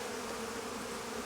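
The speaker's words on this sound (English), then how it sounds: "The bees will clean this up." Honey bees work over a slightly mouldy hive frame that held honey and stores through the winter, making a steady, close, unbroken buzz with no voices.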